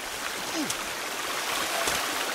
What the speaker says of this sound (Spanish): cómo suena, ¿no? El agua.